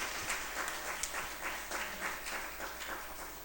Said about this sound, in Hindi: तालियां बजा के स्वागत कर दीजिए